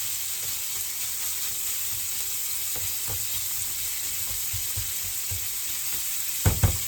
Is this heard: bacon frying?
yes